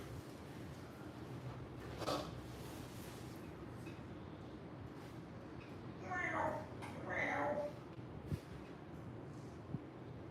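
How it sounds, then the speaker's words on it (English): Shiva, a pet cat, gives a couple of short meows at moderate distance against a low, steady room hum, with a soft earlier call; the sounds are faint rather than loud. "Shiva, you're a good kitty cat."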